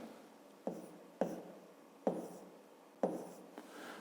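Marker or pen strokes write out a math answer in a quiet room, four or five short, crisp bursts, each fading quickly, with no talking.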